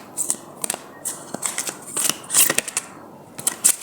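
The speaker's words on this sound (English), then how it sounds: "This deck doesn't always shuffle very well." A tarot deck is shuffled in short, uneven bursts of papery riffles and flicks, close by and crisp, with brief pauses between handfuls.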